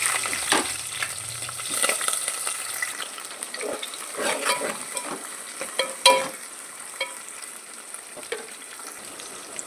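Finely cut green chillies and onions fry in hot oil for bottle gourd pulusu, with an uneven crackling sizzle broken by the clatter of stirring utensils.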